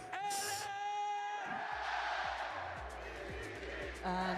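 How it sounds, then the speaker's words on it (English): Loud esports tournament crowd cheering and yelling in an arena during a VCT Masters Santiago Valorant match, a sustained roar of many voices with whoops rising over a steady din. "the crowd's getting pretty loud"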